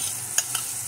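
Cream of mushroom goes into a pan for a white carbonara sauce, with a soft steady sizzle and two quick, close utensil clinks over a brief moment.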